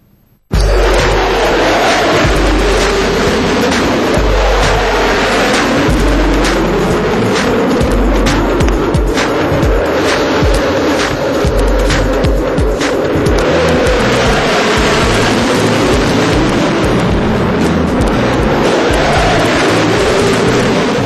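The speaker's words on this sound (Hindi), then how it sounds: "गरज के साथ जंगी जहाजों की उड़ान।" Military jets roar through the sky during the Aero India 2013 air show, with aerobatic aircraft and helicopters overhead; a loud, continuous, rumbling engine roar fills the whole stretch with no talk.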